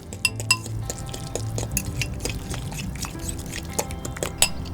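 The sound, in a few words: whisking honey and ricotta together with a fork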